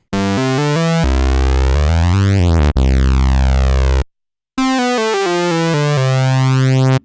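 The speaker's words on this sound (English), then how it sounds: "let's put them both on a triangle wave, bring that up" A Korg MS20 Mini synthesizer with both oscillators set to triangle waves, playing sustained tones whose pitch sweeps and steps in smooth glides, loud and alone, with a brief silent gap before the tone resumes.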